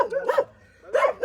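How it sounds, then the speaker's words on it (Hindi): A dog gives two sharp barks a short gap apart, close by at a house near Kainchi Dham in India, with a quiet pause between them and no talk over the barks. "गाइस ये भौंक रहे हैं"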